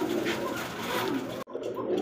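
Pigeons cooing in a loft, close and continuous low throaty coos with a brief break midway.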